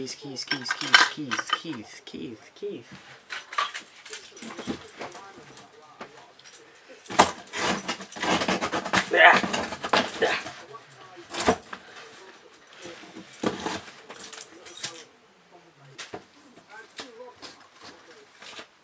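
Metallic keys jangle and clink in irregular bursts while someone rummages through items in a bait shed, with knocks and handling noises between; a person talks intermittently.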